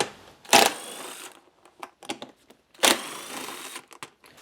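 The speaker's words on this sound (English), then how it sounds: "We just need to remove these two 10mm bolts for the seat." Two 10mm seat bolts are worked loose on a YZ250 two-stroke dirt bike, giving two short loud bursts of ratchet clicking with quieter scattered tool clicks and taps in between, close up and with no talking.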